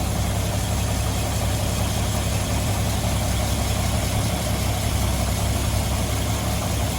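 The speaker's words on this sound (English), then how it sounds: "see how smooth the engine's running right here" A cold 1954 Ford F100 pickup engine idles smoothly and steadily at close range, a continuous low rumble with no voices over it.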